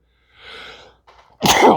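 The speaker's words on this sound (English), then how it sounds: "Get the weekly sneeze out of the way." A quick inhaling build-up ends in one sharp, loud sneeze up close, with nothing else around it.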